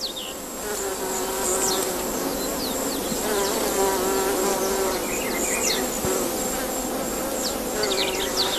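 Loud, continuous buzzing drone of bees around a Malpighiaceae flower, with an oil-collecting female among them, the steady hum overlaid by shifting wingbeat whines as insects move close and away.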